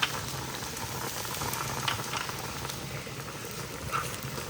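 Chopped kale sautéing in a pot of cauliflower corn chowder, a soft, steady sizzle and bubbling with a few faint pops, quiet and close.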